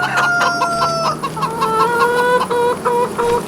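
Hens clucking in a farming video game set on a farm, several bright, rhythmic clucks and calls repeating close and clear without any talking.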